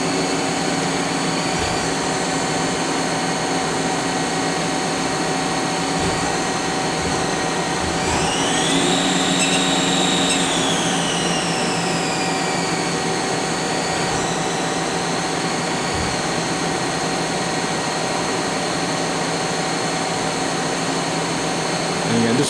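A Hardinge Quest 8/51 two-axis CNC lathe with tailstock runs its live tooling at 1,500 RPM, giving a steady loud machine whine with a rising and falling pitch sweep midway over a constant mechanical drone.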